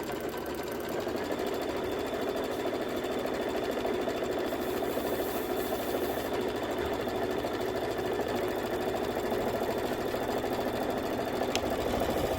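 An embroidery machine sews fabric down onto a quilted table topper, a steady, close mechanical whir and rapid needle chatter that runs continuously at even volume.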